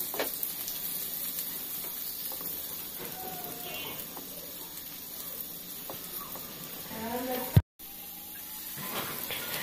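Chopped onions, bay leaves and dried chillies frying in oil for a beef kala bhuna give a soft, steady hiss, with faint stirring clinks and a brief sharp knock near the end.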